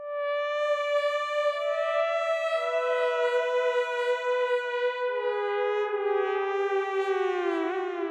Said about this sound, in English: in the brass, you've got the CS Dreaming, which is the Blade Runner sort of